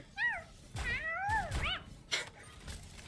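Several cat meows, a short one then two longer wavering calls, close and fairly quiet, with light rustling between them.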